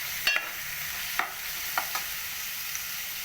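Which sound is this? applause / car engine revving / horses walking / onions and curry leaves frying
onions and curry leaves frying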